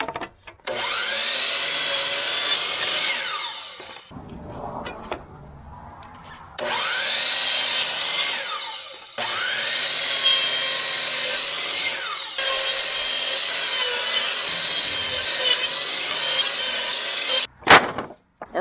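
Rough pallet wood being cut for building pig beds, in four loud sustained sawing passes of a few seconds each, split by short pauses and followed by a brief knock at the end.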